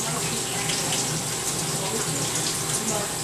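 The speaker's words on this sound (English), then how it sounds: "just let the cold water run over the balls" Cold tap water running from a faucet over boba balls held in a strainer: a steady, dense rushing hiss of flowing water, close and continuous with no breaks, and no voices.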